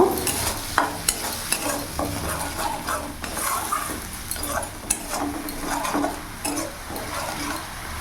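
Spice paste with a little water stirred and frying in a pan for a Bengali rui fish kalia, with repeated scraping and clinking strokes of a spoon over a continuous close sizzle.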